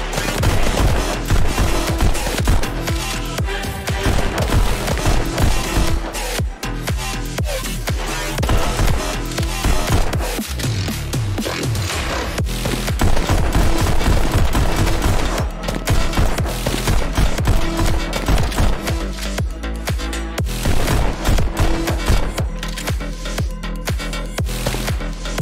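Rapid gunfire from the rhythm VR shooter Pistol Whip on Hard difficulty, dense bursts of sharp shots firing continuously over a driving beat, loud and sustained throughout with no talking.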